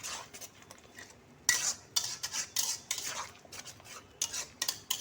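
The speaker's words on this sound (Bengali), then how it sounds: "এবার নাড়তে থাকবো।" A spoon scraping and clinking against a pan while tomato paste is stirred into a spiced potato curry, irregular close metallic strokes with a faint sizzle underneath and no talking.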